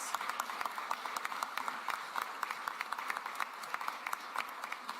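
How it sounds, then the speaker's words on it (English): Scattered clapping from a civic audience at a mayor's address, fairly quiet and uneven, with individual claps standing out in an irregular patter that continues steadily throughout. "Please give yourselves a round of applause."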